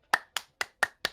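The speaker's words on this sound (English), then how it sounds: "Clapping loudly." Five sharp hand claps in an even, quick rhythm, crisp and isolated with nothing else around them.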